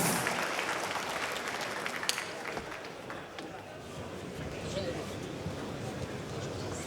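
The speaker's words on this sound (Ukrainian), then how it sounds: "Вітайте оплесками!" A crowd applauds steadily in a large venue at a fight event, sustained clapping rolling on throughout while an announcer's voice carries over it.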